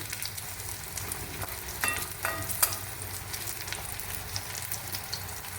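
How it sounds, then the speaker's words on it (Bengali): Cucumber slices fry in hot oil for pakoras, a steady crackling sizzle with a few sharper pops and stirring scrapes near the middle, close and moderately loud with no voices. "এরকমই উল্টে পাল্টে আমি লাল করে সব শসাগুলো ভেজে নেব"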